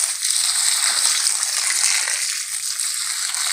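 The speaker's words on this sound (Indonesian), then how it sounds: "Ini semua saya siram pakai air beras." Steady splashing of rice water poured onto compost, a continuous close spattering with no voices.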